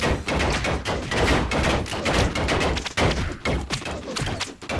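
Gunfire in the Lego Indiana Jones 2 video game, with dense, rapid clattering shots and impacts crowding together across the whole stretch at moderate loudness.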